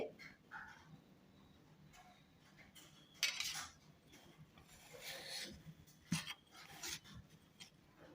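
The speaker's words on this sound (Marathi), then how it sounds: "ही वडी आपण उलताना वगैरे ही अशी काढून घ्यायची आहे" Spatula scraping and lifting set coconut barfi pieces from a tray, with faint intermittent scrapes and light metallic clinks, close but quiet.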